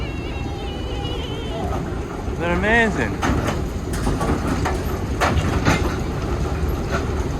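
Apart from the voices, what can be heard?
vintage quarry excavator engines idling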